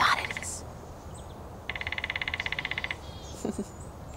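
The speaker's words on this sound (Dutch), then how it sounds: "Precies iemand die met een hamertje tegen de boom klopt. Daar ergens. Dat is een specht." A woodpecker drums on a tree in a winter woodland: one fast, even burst of knocks lasting over a second, moderately distant, with faint outdoor sounds before and after.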